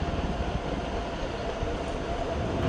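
A regional train rumbles near München Hbf, a steady loud low roar of wheels and motors close by, with no pauses.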